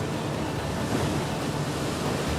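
Strong wind and crashing sea waves roar steadily around an Ottoman galley fleet at sea, a dense, continuous wash of surf and gusting air with no voices.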